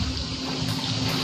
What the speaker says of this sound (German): Ah, Dusche.